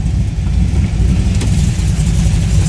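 A 1987 Chevrolet's engine rumbles loud and close in a deep, throaty idle with slight surges of revving, steady throughout with no voices.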